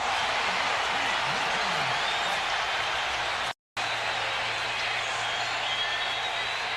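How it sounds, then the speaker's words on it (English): Roar of a football stadium crowd at an Oakland Raiders home game against the Kansas City Chiefs in 1999, right after a blitz sack, a steady dense wash of cheering with a brief dropout midway. "And this crowd is really getting involved."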